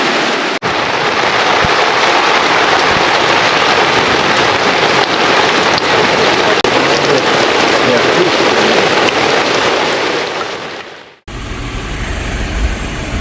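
Heavy thunderstorm rain pours loudly and continuously around a Jeep under a canopy, a dense roar that cuts off abruptly near the end.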